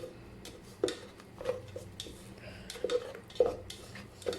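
Tomato paste masala sautéing in a pan for Hyderabadi mutton curry, with soft sizzling under scattered clinks and scrapes of a spoon against the metal pan.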